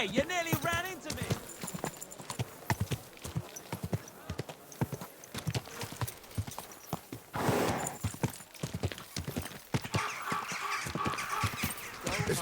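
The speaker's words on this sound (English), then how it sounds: "Is this your first time riding a horse?" Horse hooves clip-clop at a steady rhythm while riding through a medieval town in Kingdom Come: Deliverance 2, with a brief whinny, a honking goose nearby and townsfolk voices talking over the hoofbeats.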